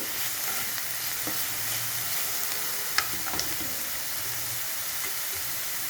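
Onion and garlic sizzle and crackle in a hot oiled pan for a chicken curry, a steady close frying hiss with a few sharp pops and occasional stirring scrapes, no voices.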